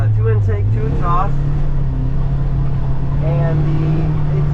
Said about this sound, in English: You can still hear the engine.